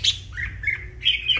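Red-whiskered bulbul sings in a series of bright, close chirping whistled phrases with short pauses between them, loud and clear with a faint low hum underneath.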